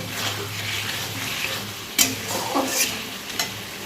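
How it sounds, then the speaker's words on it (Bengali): Spiced dhoka (Bengali lentil cake) curry masala sautéed in a pan: a steady close sizzle with repeated scraping stirs and a few sharper clinks of the spoon against the pan. "কষা প্রায় হয়ে এসছে, আর একটু কষে নেব"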